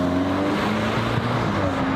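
Rebuilt VW Mk8 Golf R on the move with an R600 intake fitted, a steady engine hum and intake drone with low harmonics under road noise, heard from inside the car, continuous and moderately loud.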